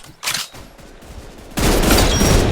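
Rapid automatic gunfire from a video game weapon, a short burst followed by a loud sustained stream of shots that continues to the end.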